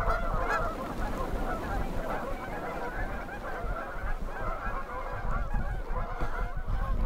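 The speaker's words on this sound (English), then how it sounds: "we have some other geese over here by the open water as well" A flock of geese near open water at an expo honks continuously, many overlapping calls at moderate distance, forming a dense, noisy chorus with no talk.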